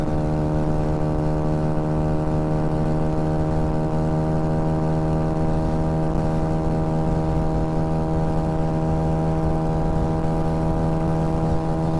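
A Honda Ruckus scooter engine runs steadily at speed on the road, a constant droning hum with strong tonal harmonics and wind noise, with no pauses or talk.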